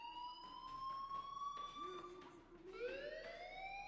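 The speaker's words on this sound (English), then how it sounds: "Do you hear that fire alarm?" A fire alarm rings continuously in the Life is Strange video game, steady tones with rising sweeps, loud and close throughout.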